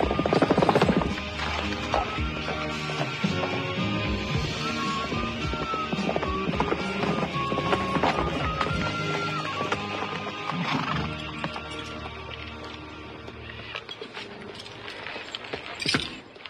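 Horses clip-clop and neigh close by in a film scene at stables, with riders gathering; hooves and whinnies run steadily throughout amid busy ambient sound and a loud start.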